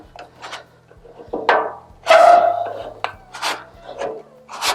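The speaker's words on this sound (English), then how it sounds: "I want to take this scraper, put it right here, and push downward, and then really roll that into that edge." A metal scraper pushed hard and rolled along the edge of a flat top griddle, scraping off caked oil in several rough, rasping strokes of varying length, close and loud, with short pauses between passes.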